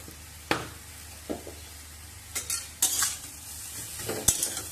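Potato and ash gourd stalks stir-fried in a pan with turmeric and chilli powder, several sharp spatula scrapes and clanks over a faint steady sizzle.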